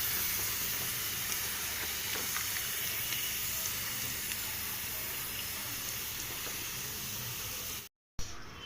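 French fries frying in hot oil, a continuous soft sizzle and bubbling hiss held at an even level, cut by a brief silence near the end.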